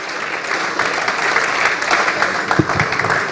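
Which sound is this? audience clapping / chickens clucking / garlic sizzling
audience clapping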